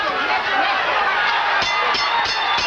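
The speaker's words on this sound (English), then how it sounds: "the crowd here at Caesars Palace comes to its feet in appreciation of a good, hard-working effort by both Duran and Minchillo" A boxing crowd at Caesars Palace cheers and roars steadily as the Duran versus Minchillo fight ends, a dense, loud wash of voices with scattered sharper claps.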